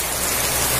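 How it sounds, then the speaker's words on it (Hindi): Heavy rain pours steadily outdoors beside the Markanda river, a dense, continuous hiss of drops striking surfaces, close and loud throughout with no voices. "अभी बारिश बहुत तेज है"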